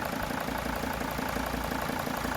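A Mercedes OM647 diesel engine in a T1N Sprinter van idles after a cylinder head swap, a steady close clattering rumble with an even rhythmic knock and no voices.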